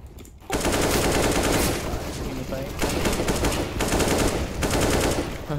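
Sustained, dense automatic gunfire from a Counter-Strike style shooter game runs loud and continuous for several seconds after a brief quiet start, with a voice faintly underneath.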